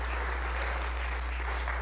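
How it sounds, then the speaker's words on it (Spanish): Loud congregation applause during a church camp sermon, a continuous wash of many hands clapping close by, with a low steady hum underneath and no speech. "Eso, denle un aplauso fuerte al Señor."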